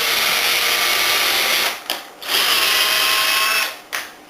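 A power drill with a small bit pre-drills wood for a mini planter greenhouse frame, whining in two close, loud bursts separated by brief pauses as the motor spins down and restarts.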